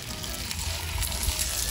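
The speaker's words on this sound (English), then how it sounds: "Oh, that's the sizzle we wanna hear" A soft, steady crackling sizzle of a smoked tri-tip beef roast searing on a hot grill, with a few brighter pops, no voices.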